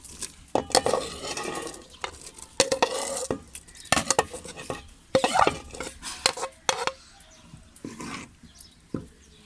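Raw chicken goes into a pot of hot and sour soup amid sharp metallic clinks and knocks of a spoon against the pot, with stirring scrapes and faint simmering between the close, irregular hits.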